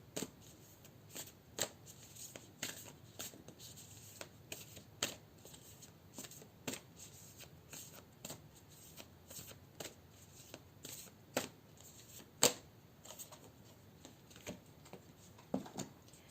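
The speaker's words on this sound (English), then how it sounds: "I'm gonna pull an oracle card to leave you with." A deck of oracle cards being shuffled by hand, a steady run of crisp riffling snaps and soft slides at close range, with a sharper snap near the end and no talking.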